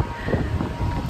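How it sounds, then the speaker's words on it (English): Wind gusts outdoors, a steady loud rumbling buffet across the microphone, close and continuous with no talking. "that wind feels good"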